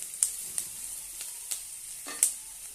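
Curry leaves hit a pan of roasted onions while cooking a papad chutney, giving a quiet, sparse crackle with four or five sharp pops scattered over a soft hiss.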